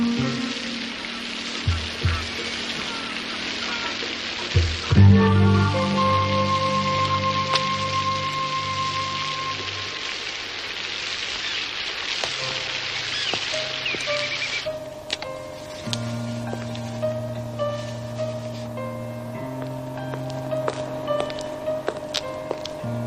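Steady rain patters and hisses throughout, mixed with drawn-out tonal hums and occasional clattering knocks, moderately loud and continuous for the whole stretch.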